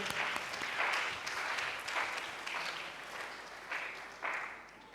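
A church congregation applauding the Lord during a worship service, with steady, dense clapping that swells in waves throughout, fairly close and full, with no voices over it.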